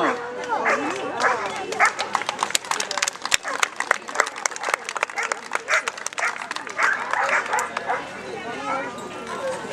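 A rescue dog barks repeatedly in quick bursts, close and loud, while a person talks over the barking.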